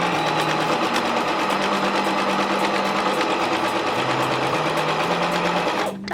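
A sewing machine sews scrunchie fabric in one continuous, close, loud whirring run with a steady mechanical hum, ending in a brief slowdown.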